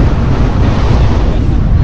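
Strong wind buffets the microphone in a loud, continuous roar across the open bay facing Mont Saint-Michel, with no other sounds standing out.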